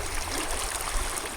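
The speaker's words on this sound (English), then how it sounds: "That river went down about 12 inches and now it's coming right back up." River water pours steadily over a Sidewinder sluice stand outdoors in a continuous, loud, even rushing wash with no pauses and no voices.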